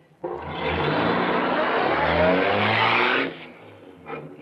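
A getaway car in a 1952 radio crime drama roars off, its engine revving loud and close for about three seconds before easing back, with a faint trailing engine note and no talking.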